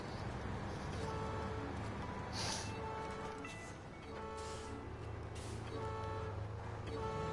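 A truck horn honks repeatedly in the Snowrunner video game, steady tonal blasts sounding over a continuous engine drone and game background noise.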